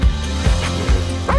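A dog gives several short, loud barks and yips in a steady rhythm, close and prominent, with a faint whimpering quality.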